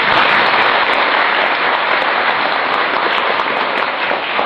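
Audience at a religious lecture clapping, a loud, continuous rain-like wash of many hands sustained for several seconds and easing slightly toward the end.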